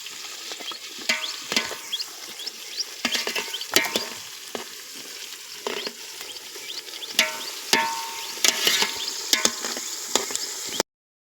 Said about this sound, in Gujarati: ડુંગળી તેલ આવી ગયું છે એટલે ડુંગળી નાખવાની છે. ડુંગળી નાખે એટલે ડુંગળીને આવી રીતે તળવાની છે.